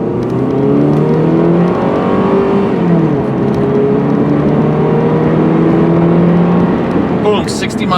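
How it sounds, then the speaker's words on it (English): Purple 1998 Honda Accord, a 4-cylinder automatic of about 2 to 2.2 liters, accelerating hard on the road: a loud, close engine drone climbing steadily in pitch through the gears, with brief shifts and someone talking over it. "And really step on the gas now."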